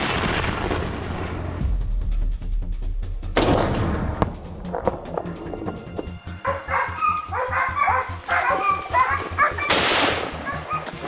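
Hunting dogs bark and yip excitedly as they close in on a wild boar in a forest, close and loud, with sharp gunshot-like bangs early on and frantic overlapping barking building toward the end.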